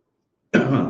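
After a moment of silence, a sudden loud, harsh throat-clearing cough bursts out close by and rasps on to the end.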